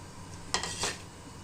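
Salt, chili and turmeric go into a pot of kadhi on the stove, with a sharp metallic clink of spoon on pot followed by a second brief scrape, close and fairly loud.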